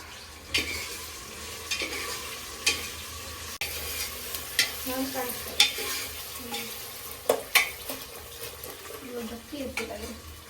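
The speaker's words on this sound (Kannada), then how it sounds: "ಆಮೇಲೆ 1-2 ಈರುಳ್ಳಿ ಫ್ರೈ ಮಾಡೋಣ" Onions fry in a pan for chicken biryani, giving a steady sizzle broken by repeated scraping stirs and light clinks of a spoon against the pan, close by, with faint voices in the background.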